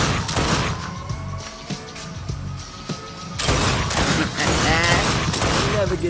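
Rapid gunfire from The Darkness 2 shooting game, dense bursts of shots and impacts in continuous volleys that swell louder in the second half, with brief bangs over a busy game soundscape.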